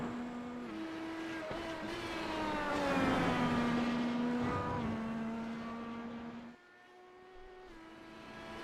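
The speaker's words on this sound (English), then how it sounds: "as he makes his way around the track on his up-to-speed lap" IndyCar race car engine on a qualifying lap, a high, sustained whine that rises and shifts pitch as the car speeds around the track, swells loudest mid-pass, then fades after a brief dip.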